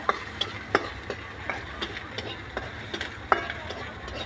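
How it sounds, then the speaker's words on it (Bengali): Garlic and onion sizzle softly in a pan while a utensil scrapes and taps against it in irregular stirring strokes. "রসুনটা দিয়ে দিলাম, ভালো করে নেড়ে ভেজে নিব।"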